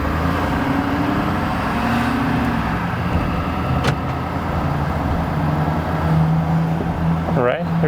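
A 2021 Ford F-250 Super Duty truck, previously wrecked, drives along: a steady, loud low engine and road rumble heard from inside the cab, continuous throughout, with faint higher squeaks near the end.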